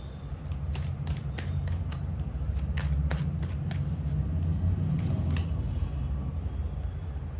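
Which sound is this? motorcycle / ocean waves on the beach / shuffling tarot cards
shuffling tarot cards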